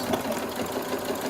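A sewing machine stitching fabric at a slow, steady pace for a curved seam, giving a continuous close mechanical whir with a faint regular pulse and no talk.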